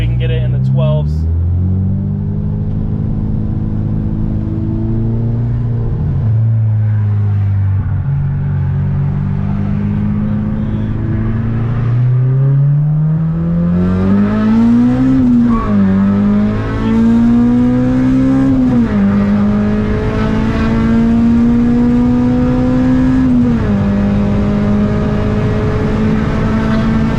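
A tuned Acura RSX Type-S with a K-Pro engine revs up close during a pull, its pitch climbing in long sweeps with brief dips at the shifts, loud and continuous throughout.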